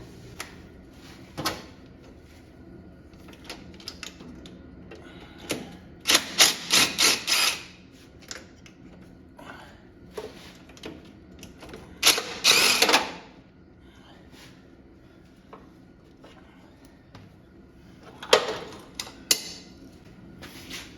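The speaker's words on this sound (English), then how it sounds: "let's try to get these 4 bolts out of the pump." Bolts are worked loose from the rear hydraulic pump of a Cub Cadet 129 garden tractor, giving scattered metallic clicks, ratcheting bursts and scraping rubs with quiet gaps between them, close by and fairly soft.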